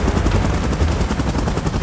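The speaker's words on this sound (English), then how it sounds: "Chopper in position." A helicopter in the PUBG video game, with its rotor thumping in a dense, loud, continuous roar and sharp crackling bursts like gunfire mixed in throughout.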